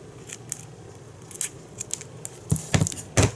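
Scissors cut paper for a scrapbook iris shutter with a series of crisp snips and rustles, close and sparse at first, then a few louder cuts near the end, with no talking.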